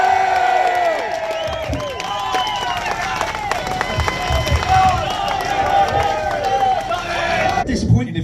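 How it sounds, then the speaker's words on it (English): A large crowd at an outdoor rally cheers, whoops and claps continuously, a dense roar of voices and applause that swells and fades over several seconds. "Give it up for Tommy Robinson"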